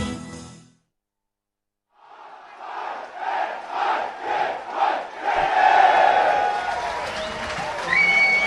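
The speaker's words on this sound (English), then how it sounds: "The crowd, they're a bit extra louder today" A large crowd at a schools rugby league match between Trinity College and St. Peter's College at Pallekele swells after a brief silence into rhythmic chanting surges and then sustained loud cheering, with a whistle-like tone near the end.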